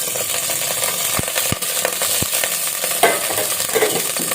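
Whole spices frying in hot oil in a thick kadai while being stirred, a close and steady sizzle with a few sharp metallic scrapes and clinks of the spoon against the pan.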